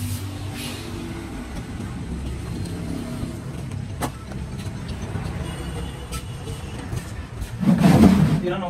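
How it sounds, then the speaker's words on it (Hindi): Tata 3718 heavy truck with an overloaded body rolls onto a weighbridge beside a petrol pump, a steady low engine rumble that swells louder near the end as it comes closer. "यहाँ पर देख सकते हो गाड़ी कांटे पर अभी आ रही है"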